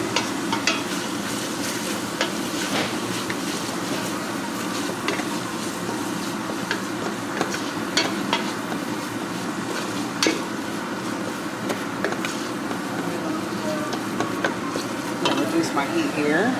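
Spaghetti sauce stirred in a pan on the stove, a steady low sizzle with scattered spoon clicks and scrapes running throughout, some faint talk in the background.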